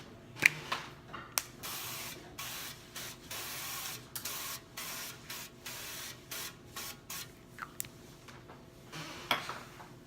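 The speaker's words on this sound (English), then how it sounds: "I'm just going to spray it on top of the mushroom" Repeated short hissing bursts of olive oil spray onto a mushroom, close and fairly quiet, in an uneven rhythm with brief pauses between them.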